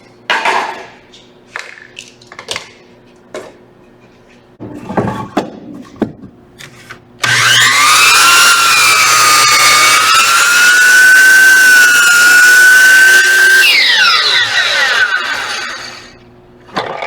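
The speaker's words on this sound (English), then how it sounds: "Now we're off to the miter saw." Miter saw spinning up and cutting through a wooden board for a cribbage board base, a loud whining cut lasting several seconds before winding down, preceded by scattered handling knocks and clatter.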